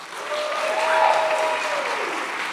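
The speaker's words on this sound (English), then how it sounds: "by sound of applause, who really liked the Succession series finale?" A live theater audience in Seattle applauds in a swelling wave that peaks and then tapers off, with a few whoops and cheers rising above the clapping.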